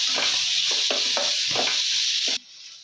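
Tomatoes and turmeric fry in a pan with a steady hiss and sizzle, while a spoon stirs in several short scraping strokes. The sound cuts off abruptly near the end.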